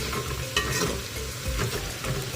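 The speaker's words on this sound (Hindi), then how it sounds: "5 मिनट तक हमें अदरक लहसुन के पेस्ट को अच्छे से फ्राई करना है।" Ginger garlic paste fries in a pan for an arvi and brinjal curry, a close, steady sizzle broken by scraping stirs, with no voices.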